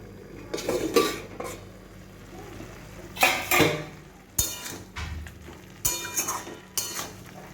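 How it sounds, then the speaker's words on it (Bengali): A cooking pot's lid being lifted off and handled over a gas flame, with several separate metallic clanks and scrapes spread across the moment, separated by quiet gaps, close and fairly loud. "ঢাকনাটা খুলছি।"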